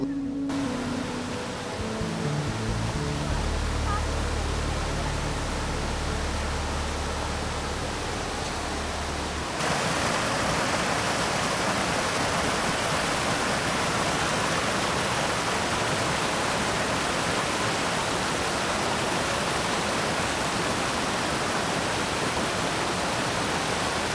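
Spring water at the Panchalingeshwar temple streaming among rock crevices, a loud, dense, steady rush that grows fuller after the first few seconds and then holds unbroken.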